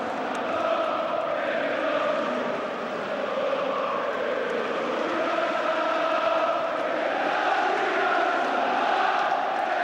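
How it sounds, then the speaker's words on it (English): A full football stadium crowd singing and chanting at Alan Shearer's 2006 Newcastle United testimonial match, a broad, sustained roar of massed voices, steady and loud without pauses. "I think this crowd and what they're singing now"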